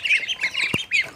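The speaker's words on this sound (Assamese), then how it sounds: "বগা হাঁহজনী উমনি লৈ আছিলে তাৰ পোৱালিখিনি দেই" Near a white mother duck with her ducklings, thin high peeps and squawks come in quick bursts, with a brief low thump partway through.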